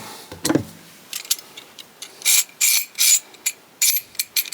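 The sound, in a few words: Knipex or Hazet pliers wrench mechanism catching and clicking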